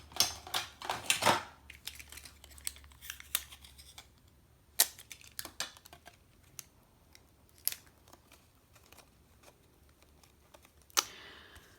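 Scissors snip through craft packaging close by, in a burst of quick sharp cuts followed by scattered clicks and rustles of handling, with no talking.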